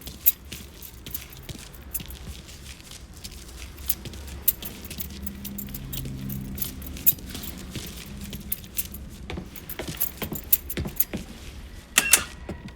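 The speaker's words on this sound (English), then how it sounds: "grab those keys" Metal keys jangle and clink repeatedly in Mafia 3, close and crisp, with bursts growing busier toward the end over a low engine-like rumble.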